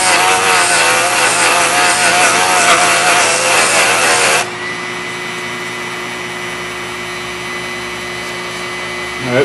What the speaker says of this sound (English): I got a vacuum. I'm going to clean up a little bit